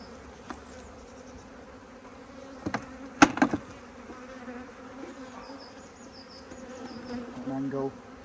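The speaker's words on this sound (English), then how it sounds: "Gently ease the bees out of the way." Honey bees buzzing around stacked hive supers during an inspection, a constant close hum of many wings with a few sharp wooden knocks and scrapes of the boxes partway through.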